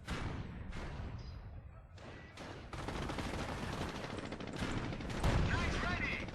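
Rapid bursts of gunfire from an AT half-track in the strategy game Company of Heroes, with bursts clustered into bouts and a louder, heavier volley near the end.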